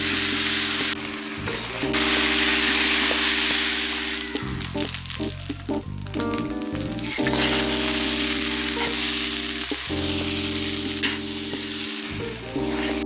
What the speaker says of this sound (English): Stir-fry the rice until all liquid has dried up.